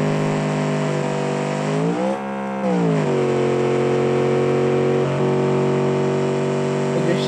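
A car drifting in the BeamNG driving game, its engine droning steadily and loudly with pitch dipping and rising as it slides, then holding a sustained high rev.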